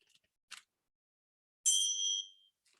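A small bell rings once in a quiet yoga class, a bright clear ding that rings on briefly and fades, after a faint tap just before it.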